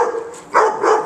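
A dog that is not normally aggressive barks at a frightened German shepherd, giving two loud, close, sharp barks in quick succession.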